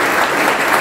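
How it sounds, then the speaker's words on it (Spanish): Loud, dense applause from a crowd at a kayak clinic held at a fishing club, a steady wash of many hands clapping close by with no talk. "La despedimos con un aplauso a Mónica."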